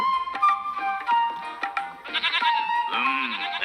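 A goat bleats several times in a row, loud and close, with wavering cries that grow fuller toward the end, in a storytelling scene about selling the goat.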